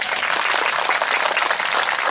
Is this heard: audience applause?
yes